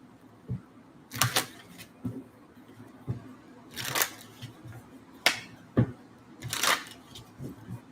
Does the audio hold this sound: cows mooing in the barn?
no